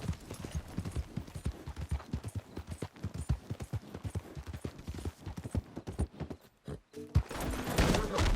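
Horse hooves clip-clop steadily at close range in Red Dead Redemption 2, with a brief lull near the end before other game noise rises.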